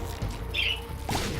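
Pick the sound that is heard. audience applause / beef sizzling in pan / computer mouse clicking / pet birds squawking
pet birds squawking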